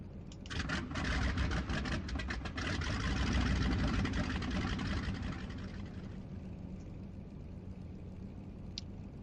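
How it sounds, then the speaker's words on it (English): A heavy bomber engine in a video game cranks with rapid sputtering bursts, then catches and settles into a steady, rumbling idle. "After the engine has finished starting, you can deselect it and select the next engine to start."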